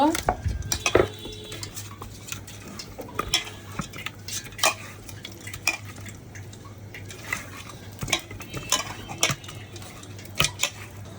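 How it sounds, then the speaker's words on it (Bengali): Pieces of rui fish being mixed by hand or spoon with turmeric, chili powder and salt in a bowl, producing irregular clinks and soft scrapes against the dish, close and fairly quiet, with no talking. "হলুদের গুঁড়া সামান্য মরিচের গুঁড়া হাত মতো লবণ এটা মেখে নিব"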